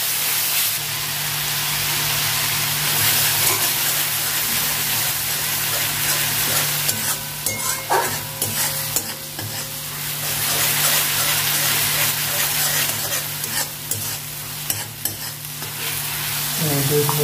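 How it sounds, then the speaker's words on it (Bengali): Green chilies, ginger, and a tomato and onion paste frying in hot oil, a loud continuous sizzle with occasional stirring and spattering throughout. "ওই তেলের উপরে দুটো কাঁচা লঙ্কা দিয়ে দেবো। একটু অল্প আদা, একটু টমেটো আর একটু পেঁয়াজ পেস্ট করেছেন সেটা দিয়ে দেবো।"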